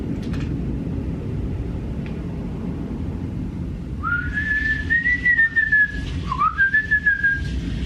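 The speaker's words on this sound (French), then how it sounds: "T'as vu comment je siffle bien?" A person whistles loudly without fingers, producing a sustained shrill tone and then a short second whistle with a pitch dip, over outdoor background rumble.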